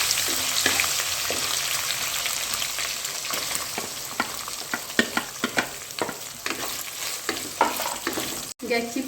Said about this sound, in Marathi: कांदा थोडासा फ्राय झालेला आहे